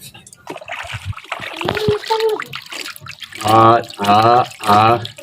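Short bursts of splashing and dripping water as a rabbit bathes in a small pool, followed by a voice talking in loud, drawn-out phrases.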